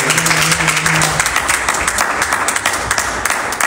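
A church congregation claps and applauds loudly and continuously, close and dense, with a brief voice at the start.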